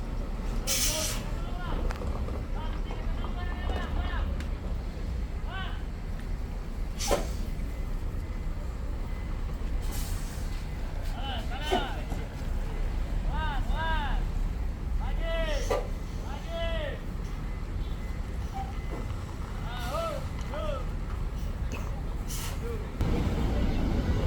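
A Garuda Mas (Garamas) Switch Class coach bound for Malang pulls into Pondok Pinang bus terminal, its engine rumbling under repeated sharp air-brake hisses, with busy terminal noise all around.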